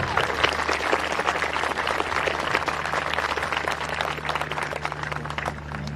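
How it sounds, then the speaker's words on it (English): An audience at a Twin Peaks Classical Academy graduation ceremony applauds parents, guardians and faculty, a continuous, moderately faint wash of many hands clapping that holds steady for several seconds. "Can we also get a round of applause for our parents and guardians and faculty?"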